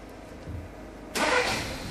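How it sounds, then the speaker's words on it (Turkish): A Volkswagen Polo engine cranks and catches after a quiet second, jumping into a loud, steady idle close by with no talking. "Çalıştırın arabayı."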